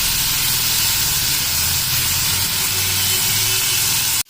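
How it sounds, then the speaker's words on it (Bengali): Steamed cauliflower fries in a hot pan with a loud, steady hiss of steam and sizzle that continues without pause, then cuts off abruptly at the end; no one speaks. "ফুলকপিগুলোকে একটু ভাপিয়ে নিয়েছি এবার একটু ভাজা ভাজা করে নিচ্ছি"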